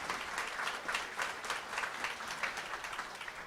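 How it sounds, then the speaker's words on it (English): An audience bursts into applause, a dense, moderately loud patter of many clapping hands that continues evenly throughout. "round of applause for that."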